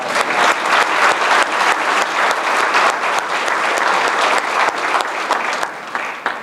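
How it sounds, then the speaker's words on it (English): At a skeet shooting association banquet, the crowd breaks into loud, sustained applause with crisp individual claps standing out, holding strong before easing off slightly at the very end. "She deserves a round of applause."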